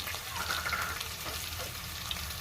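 Green chilli pieces and bay-leaf spices frying in oil in a pan for boti gongura, a dense continuous close sizzle with light stirring scrapes throughout.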